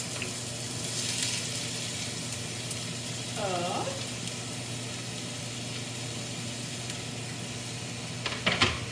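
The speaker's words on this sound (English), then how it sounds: "So now that the oil is hot, it says to add the onions and the potatoes." Onions and potatoes fry in very hot oil for a vegetable curry, giving a steady low sizzle throughout, with a brief stirring scrape partway through and a few clinks near the end.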